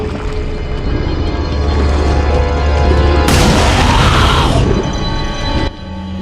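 An exploding barrel shot in a horror action video game: a loud, dense blast with a sudden bright burst midway, decaying into rumbling noise before cutting off abruptly near the end.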